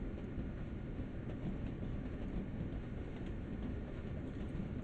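In the Train Sim World Northeast Corridor route near New York, a train runs steadily on the rails with a continuous low rumble and rolling noise, fairly faint and even, with no talking.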